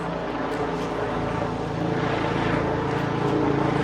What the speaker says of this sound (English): The State Police helicopter is going to do a couple flybys